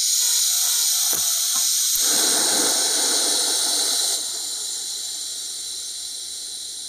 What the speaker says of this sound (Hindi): तो मैं स्टार्ट कर रहा हूँ वेल्डिंग मारना। आप लोग देख लीजिए कि किस तरीके से वेल्डिंग होता है